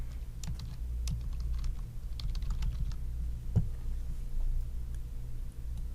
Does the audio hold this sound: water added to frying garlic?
no